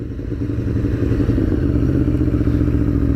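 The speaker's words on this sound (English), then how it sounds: "Listen to this burbling, snarling beast." An Aprilia V4 Tuono Factory motorcycle engine idles with a deep, close, steady burble and lumpy snarl, continuous and loud, without any talk.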